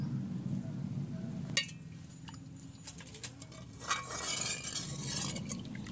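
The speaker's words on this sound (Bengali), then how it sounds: "লেবুর রসের মধ্যে আমি একটু জল মিশিয়ে দিচ্ছি" A spoon stirs water into freshly squeezed lemon juice in a bowl for homemade paneer, giving a close, steady scraping swirl broken by a few light metallic clinks against the rim.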